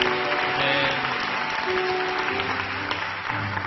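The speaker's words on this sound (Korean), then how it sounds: "우리 이밤에 임하신 살아계신 하나님께 감사의 박수 먼저 올려드리시겠습니다" A church congregation at Onnuri Church applauds together during a worship service, producing a dense, steady wash of clapping that holds for the full few seconds, with a faint sustained musical tone underneath.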